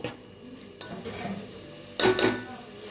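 A spoon stirs vegetable pulao in a metal pan, scraping and clinking against the sides with a faint sizzle underneath, closing in two louder metallic knocks.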